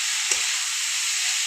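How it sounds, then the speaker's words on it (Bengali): Flattened rice hits a hot pan with a single soft thump, then a steady bright sizzle and hiss continues, close by with no talking. "চিড়েগুলো দিয়ে দিয়েছি"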